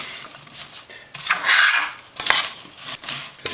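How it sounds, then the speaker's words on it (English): Spoon stirring applesauce in a pot, with close scraping and clinking of the utensil against the pot that swells and fades over a few seconds, no talking. "Stir this up real good."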